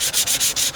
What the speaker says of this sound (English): We're gonna sand this down with our hand